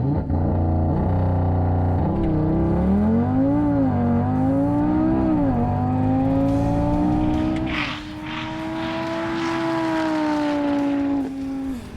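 A five-cylinder car engine revs hard at a drag strip event on a runway, its loud tone sweeping up and down through several climbs before holding a high steady pitch near and alone.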